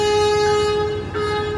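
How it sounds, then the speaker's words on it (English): A train horn sounds near and loud as a train passes, holding a steady chord through the whole stretch with a brief dip in the middle. "excuse the train"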